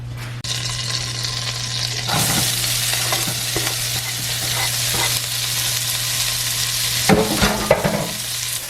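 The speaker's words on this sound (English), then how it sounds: "add like a tablespoon's worth of butter. We're going to saute our onions" Onions sauté in butter with a bright, continuous hiss that swells after a couple of seconds, broken by spatula scrapes and stirring clatter, along with a low steady hum in the background.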